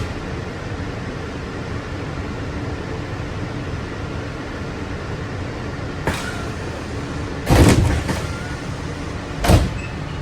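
Walt Disney World monorail doors sliding shut on a train bound for Magic Kingdom from the Polynesian, with a few short bumps and a louder thud over a steady cabin rumble.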